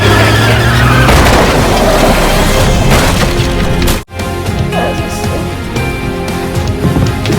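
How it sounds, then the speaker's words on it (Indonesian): A car rams into another car at a harbor, a loud continuous crunch of skidding and splintering impact noise that drops out sharply partway through and then resumes as rumbling debris and engine noise. "Sesampainya di pelabuhan, Bang langsung menabrakkan mobilnya ke sebuah mobil yang akan membawa Yunji."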